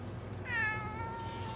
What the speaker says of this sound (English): He makes cat sounds.